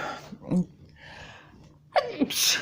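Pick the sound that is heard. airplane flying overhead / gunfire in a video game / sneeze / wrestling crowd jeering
sneeze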